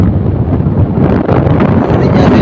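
Strong wind blows outdoors as rain sets in during a visit to a relative's home, a loud, continuous buffeting roar that rumbles against the microphone throughout, with no clear talk on top.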